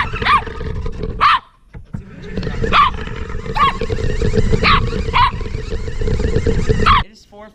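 An excited puppy yaps and barks repeatedly in short high bursts over a loud, constant rumbling noise, the barks coming roughly every second.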